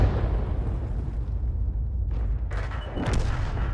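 Tank cannon fire in the World of Tanks video game, a dense low rumbling boom with a sharper burst rising near the end, heavy and continuous without any talk.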